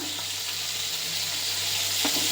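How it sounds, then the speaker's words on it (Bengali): Fish fry in a hot pan with a steady, even sizzle, close and continuous, with a faint clink or two in the background. "এদিকে মাছগুলো আমাদের মাছগুলো ভাজতে বসিয়ে দিয়েছি"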